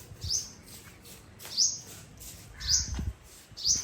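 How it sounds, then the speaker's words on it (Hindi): A small bird chirps in short high tweets, four bursts spaced about a second apart, over a faint low rumble. "छोटी सी चिड़िया"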